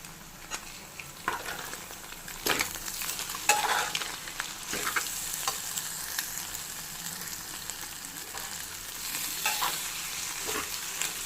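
Paneer and egg frying together in a pan, a steady sizzle broken by repeated scrapes and stirs of the spatula at an irregular rhythm, close and moderately loud with no voices.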